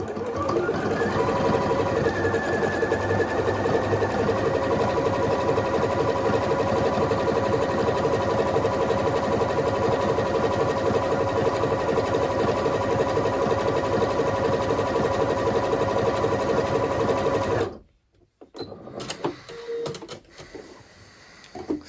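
Bernette B38 sewing machine edge stitching with a number 10 foot, a steady loud mechanical hum with rapid needle rhythm running nonstop for about seventeen seconds before stopping, followed by faint handling noises.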